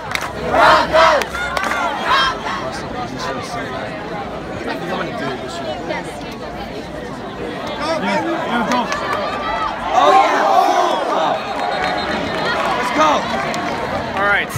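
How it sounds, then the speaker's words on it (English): A large football crowd at a game yells and cheers for the Broncos, a loud, continuous roar of many voices with surging shouts near the start and again around the ten-second mark. "we've been yelling a lot for cheering our team"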